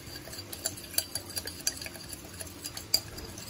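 Prawns being tossed with lemon juice and a dash of tarragon vinegar in a bowl, giving soft wet stirring with scattered light clinks of a utensil against the dish, quiet and close, with no talking.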